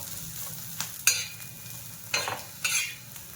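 Onion sautéing on a low flame for a home-style mutton dish, a soft steady sizzle broken by a few sharp scraping stirs of the spoon against the pan, close and moderately loud with no talking.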